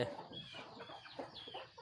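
Chickens cluck softly and briefly in a faint, distant muddle of short calls, with no clear talk over them.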